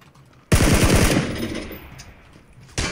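Automatic gunfire in PUBG Battlegrounds, a loud close burst of rapid shots with a long ringing tail, then a second burst starting at the end.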